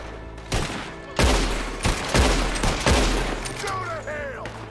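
Video game shootout against riders, with bursts of rapid gunfire crackling loudly in several volleys, a voice talking over them, and shouted speech near the end.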